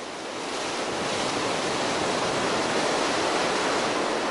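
A river in Aigüestortes i Estany de Sant Maurici national park rushes down over large and small waterfalls, a loud, steady roar of tumbling water close by with no voices.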